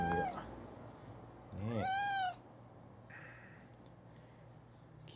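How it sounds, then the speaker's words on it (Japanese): A domestic cat gives two clear, drawn-out meows close by, the second louder and longer, with a faint third mew and quiet room background; a person speaks briefly. "完全にうちの猫やな"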